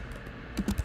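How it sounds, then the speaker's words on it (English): A few quick clicks of typing on a computer keyboard come close and fairly soft, a short flurry of keystrokes near the end after a quiet stretch. "What are you typing?"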